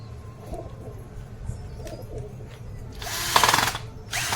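A power tool tightening screws on a tractor trailer bearing fitting, a short loud whirring burst near the end, with quieter workshop noise and bird cooing in the background.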